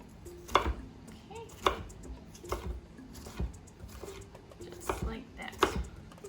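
A knife roughly dicing vegetables on a cutting board for lasagna roll-ups: a handful of sharp, irregular chops spaced about a second apart, fairly quiet, with a voice talking now and then between strikes.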